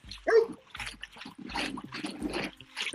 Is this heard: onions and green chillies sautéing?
no